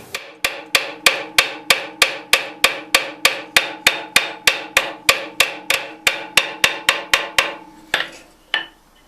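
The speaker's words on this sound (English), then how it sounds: "I use very light hammer blows to try to refine the surface as much as I can" Light blacksmith hammer blows on a steel spring being forged: about twenty-five crisp, ringing metallic strikes in a fast, steady rhythm, close and loud, then two slower, separate final hits.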